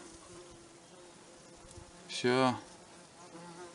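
A horsefly buzzes loudly close by for about a quarter second in the middle, a sharp nearby burst over quiet outdoor background during a cloudberry-picking outing.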